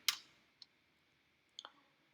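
Quiet computer mouse clicks while working in a Salesforce web app, a sharp click followed by a single faint tick, then a close double click about a second and a half later.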